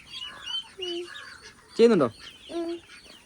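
Farm ducks quack in short separate calls, with one loud harsh burst in the middle and higher thin peeps from ducklings between them, close and clear against a quiet background.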